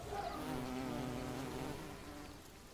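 A wall carder bee buzzes steadily beside an old wooden fence on a farm, a soft continuous drone that wavers slightly in pitch and stays fairly faint throughout.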